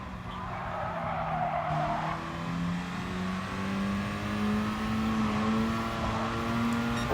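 Race cars in the video game Gran Turismo Sport, engines revving and droning steadily as they overtake, pitch rising with tires squealing and skidding, continuous and fairly loud with no talk.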